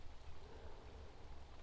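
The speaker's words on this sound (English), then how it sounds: "It's raining right now." Steady rain falls by a lake among forest in the Austrian Alps, a dense continuous hiss with a low rumbling undertone and no voices.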